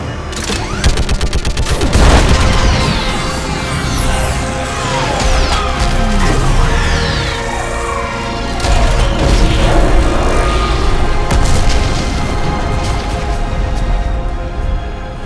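Dense gunfire and an orbital strike in the Mass Effect video game against a live Reaper: rattling bursts, crashes and heavy booms that stay loud and overlapping the whole way through.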